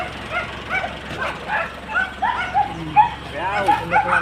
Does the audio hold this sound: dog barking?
yes